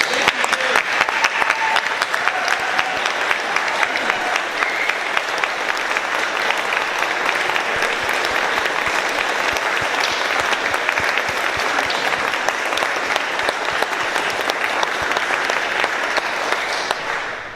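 A roomful of people at a Rotary Club weekly meeting give the club president sustained applause, steady and loud for well over fifteen seconds, fading only at the very end.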